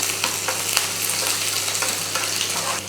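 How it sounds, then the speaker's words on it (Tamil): Onions sizzle steadily in a hot pan, browning as they sauté for a Tamil home-style curry, with occasional scraping stirs of a utensil and a low hum underneath. "வெங்காயம் வந்து நல்லா கலர் மாறுற அளவுக்கு நல்லா வதக்கிக்கலாம்"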